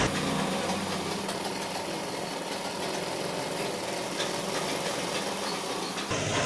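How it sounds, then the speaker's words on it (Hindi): A sewing machine runs steadily while stitching a full sleeve, a continuous close mechanical whir that stops abruptly near the end. "उसके बाद जो दोस्तों यहाँ पे हम जो है एक पैर की मार्जिन लेके सिलाई लगा लेंगे।"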